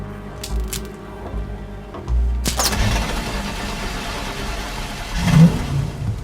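A car engine hotwired in a film scene sputters and catches after a few mechanical clicks, then revs and runs under a rising roar, fairly close and loud.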